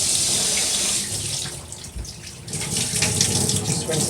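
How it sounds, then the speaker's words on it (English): A tap runs steadily as cold water rinses and sloshes inside the tank of a Bissell Spot Clean Professional portable carpet cleaner, with a slight change in splash partway through and faint talking underneath. "Just rinsing that out."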